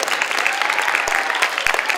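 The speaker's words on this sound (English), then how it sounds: "Big round of applause for teachers and principals." A school audience claps for teachers and principals at a DARE graduation ceremony, producing dense, loud, continuous applause of many hands throughout.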